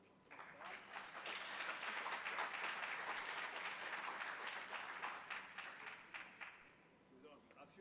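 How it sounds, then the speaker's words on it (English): Audience applause at a policy talk during an annual research meeting, a broad wash of clapping that swells quickly, holds steadily for several seconds, then thins out into scattered claps. "Another round of applause."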